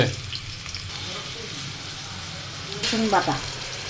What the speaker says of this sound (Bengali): তেল দেওয়া হলো পেঁয়াজ দেওয়া হচ্ছে